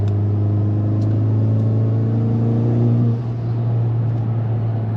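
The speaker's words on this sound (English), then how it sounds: "I'm cruising at the speed limit, and it feels fantastic" Honda Civic Type R with Hasport engine mounts cruising at the speed limit, a steady close engine drone and road hum that eases slightly toward the end, without talk.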